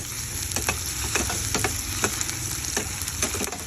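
Steady crackling sizzle of onions and garlic sautéing in a pan for menudo, with occasional scraping stirs cutting through the continuous hiss.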